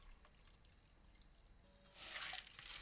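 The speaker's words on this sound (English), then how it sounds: "Then strain the liquid from the pot into a bowl, discarding the turmeric and lime." Near silence, then turmeric and lime cooking liquid begins pouring from a pot through a strainer, splashing steadily into a bowl, growing louder over the last second.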